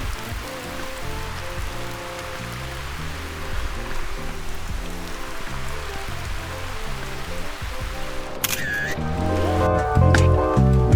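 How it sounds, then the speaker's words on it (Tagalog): Heavy storm rain pours down on a mountain hiking trail at Mt. 387, a dense, loud, steady patter close by. Brief sharper sounds cut in near the end. "Tayo ay binabagyo na at di na nga po humuhupa ang lakas ng ulan"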